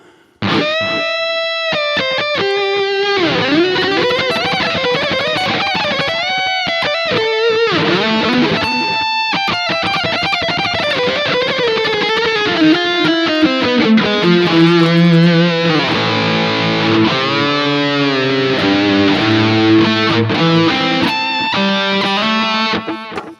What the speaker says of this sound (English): Let's engage the tape echo.